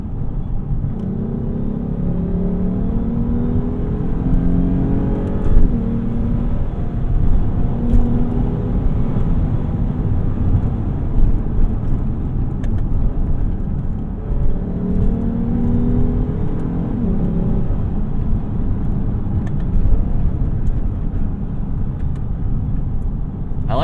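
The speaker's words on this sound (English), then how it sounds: "I like the way this V6 sounds." A 2015 Lexus GS350 F Sport's V6 engine on the road, a steady, smooth low drone with mild swells as it pulls, heard continuously from inside the car with no talking.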